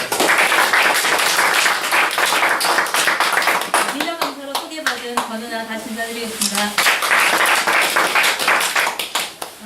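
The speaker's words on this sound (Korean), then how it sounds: "뜨거운 박수로!" Applause breaks out at a mountain rescue workshop after an instructor is introduced: many hands clapping loudly and densely, fading as a woman greets the room in the middle, then swelling again.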